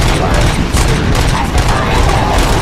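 Dense, continuous gunfire in the video game Robocop Rogue City, a loud, sustained barrage of overlapping shots and booms filling the whole stretch.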